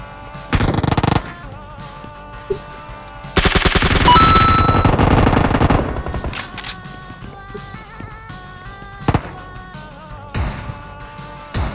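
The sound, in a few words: gunfire in video game PUBG Mobile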